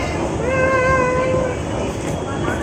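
A train at Krishnanagar railway station fills the air with a loud, steady rumble, and a brief horn-like tone rises over it partway through.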